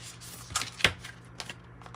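A card is pulled from an oracle card deck, heard as a few soft, close shuffling and flicking sounds in a quiet room.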